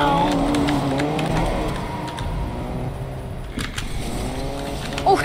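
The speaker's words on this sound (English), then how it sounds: "Oh god, there's a car near me." A car drives nearby in the video game Fortnite, a steady engine drone with shifting pitch, moderately loud under game effects, with players talking over it.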